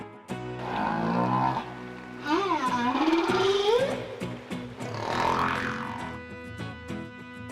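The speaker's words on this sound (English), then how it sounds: "It's a whale!" A whale calls in long, sweeping tonal cries that rise and fall, with a few separate swells of sound over about seven seconds of quiz audio.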